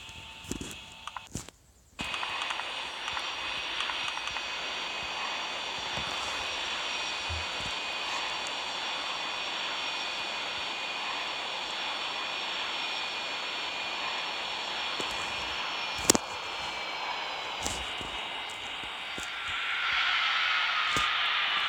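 Airbus A380 jet engines in a flight simulator game give a steady, even roar with a high whine that holds for a long stretch. The sound opens with a few sharp clicks and shifts near the end.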